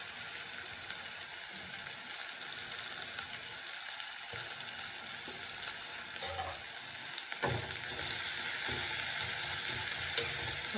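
Ingredients for rasam sizzle steadily in a hot pan, a continuous close frying hiss with occasional stirring scrapes and clinks, no voices.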